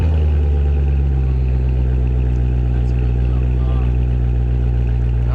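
The six-cylinder engine of a Toyota Supra holds a deep, steady exhaust hum with a strong low rumble and faint mechanical clatter, heard up close and continuous.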